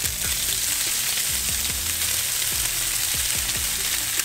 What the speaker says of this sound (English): Want to make sure that oil is like hitting every little piece of the fish